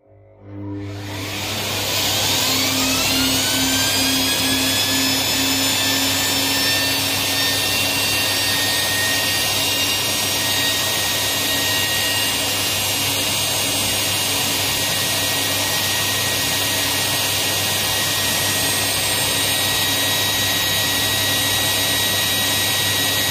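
A vacuum machine spins up a turbine quickly into a loud, steady whine with rising tones, then holds a constant high-pitched roar as the turbine runs at speed.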